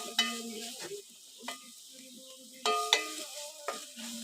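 Curry with garam masala being stirred in a pan, a handful of distinct spoon scrapes and clinks against the metal over a quiet sizzle, close and intermittent.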